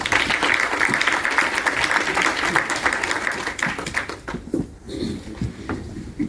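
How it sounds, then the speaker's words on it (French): An audience at a university partnership signing event claps loudly and densely for several seconds, then the applause thins into scattered individual claps before fading out. "Vous pouvez vous applaudir."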